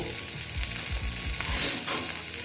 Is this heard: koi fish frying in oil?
yes